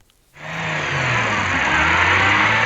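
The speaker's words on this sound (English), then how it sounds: "Try as we might, it was almost impossible to overcome the sound of the V6." Deafening cabin noise from the V6 engine of an MG Metro 6R4 Group B rally car on a road drive, a loud, steady engine roar that starts abruptly after a brief quiet moment and holds for the rest of the clip.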